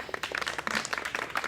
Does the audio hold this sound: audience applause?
yes